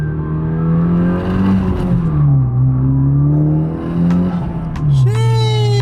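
A 10th-gen Honda Civic Si with a short shifter pulls hard from inside the cabin, its engine note climbing steadily and loud, then dipping into a shift before revving up again.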